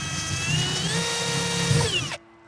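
A power drill whines steadily at close range while driving into an ICF stem wall form, holding a constant high-pitched motor tone for about two seconds before cutting off abruptly.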